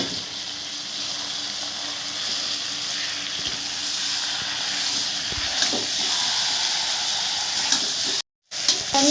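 Chicken marinated in yoghurt, chilli powder, turmeric and salt sizzles steadily in a hot wok, a continuous loud frying hiss with a few stirring clatters and a brief cut-out near the end.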